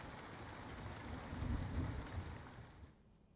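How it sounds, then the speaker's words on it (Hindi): Rain and hail pour steadily over Nainital, a dense continuous hiss with a low rumble swelling in the middle, then cutting off abruptly near the end. "ये देखिए किस तरह से शहर में ओलावृष्टि और बारिश शुरू हो गई।"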